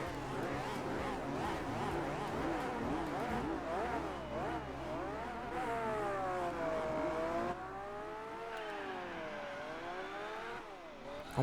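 Race cars in Gran Turismo 4, a Peugeot among them, accelerating off the start line at Circuit de la Sarthe, engines climbing through repeated rising and falling revs, loud at first and then thinning out.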